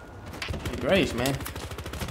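Rapid gunfire crackles in the multiplayer shooter Battlefield Hardline, a fast, fairly faint stream of shots with a short burst of other game noise in the middle.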